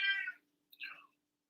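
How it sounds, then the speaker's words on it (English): A pet cat meows twice, a long close meow followed by a shorter one after a brief pause, with faint steady room hum underneath. "Stop meowing."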